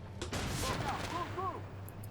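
A tank cannon fires and misses a Leopard 1A5 in Armored Warfare, a single broad blast near the start trailing into rumble, with a voice talking over it throughout.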